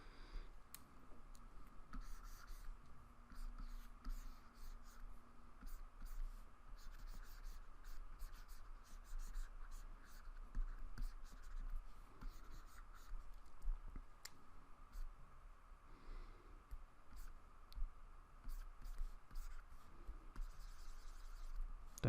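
A pen scratches across paper while a stick figure is sketched, with steady soft scraping and small ticks as strokes start and stop, close and fairly quiet, with a faint low hum underneath.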